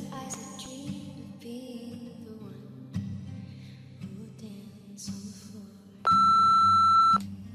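A single clear electronic phone beep sounds for about a second before a voicemail message, loud over quiet background room sound.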